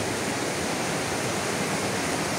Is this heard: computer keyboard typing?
no